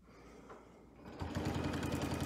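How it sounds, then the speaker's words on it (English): A sewing machine stitching a quilt, starting after a quiet pause and then running in a steady, rapid mechanical rhythm up close with no talk over it. "I'm going to put my needle down in the line and I'm just going to stitch right up to that point"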